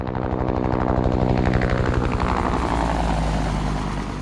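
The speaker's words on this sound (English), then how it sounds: "Mike LeFever hovered in a helicopter over the Himalayas of North Pakistan" A helicopter hovers over the Himalayas of North Pakistan, its rotor beating in a steady rapid chop with a loud, continuous engine drone throughout, no voices.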